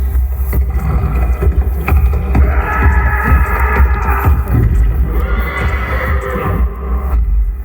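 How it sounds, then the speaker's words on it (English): A video game horse neighs and whinnies over a low, steady hum, with some faint clopping mixed into a busy, continuous background. "both knights ride in on their majestic horses"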